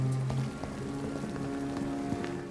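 Rain falling in a town in the Vampyr video game, a soft continuous patter of drops on surfaces beneath a low musical drone, fairly faint and steady throughout.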